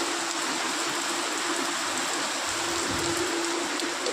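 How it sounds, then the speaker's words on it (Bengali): Heavy monsoon rain pours down steadily outdoors, a dense, even hiss with no breaks from start to finish. "এই মুষলধারে বৃষ্টি"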